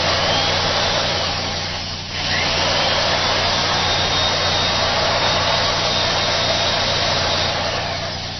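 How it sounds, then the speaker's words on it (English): A vacuum cleaner powered through an inverter roars steadily at close range, loud and continuous, with a brief dip in its whine partway through. "This is a vacuum cleaner, which has an extremely, extremely high current draw when it is first turned on"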